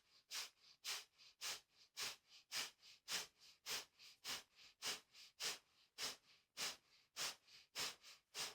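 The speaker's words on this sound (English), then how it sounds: "adding on the breath of fire" Breath of fire yoga breathing during a gentle burnout practice: quick, rhythmic forced exhales through the nose in a steady train of about two per second, close and quiet, with no talk.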